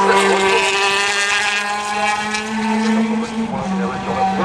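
A Lola Aston Martin race car engine starts up at the 2009 24 Hours of Le Mans, a loud roar with steady droning harmonics and wind-like noise, rising slightly toward the end.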